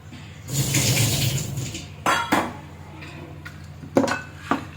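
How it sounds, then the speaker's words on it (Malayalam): Water pours into a cooking pot for green gram (cherupayar) and pumpkin curry, a rushing splash lasting over a second, followed by clinking of metal utensils and a couple of sharp knocks, close and fairly quiet. "ഇതിലേക്ക് നമുക്ക് വെള്ളം ആഡ് ചെയ്ത് കൊടുക്കണം"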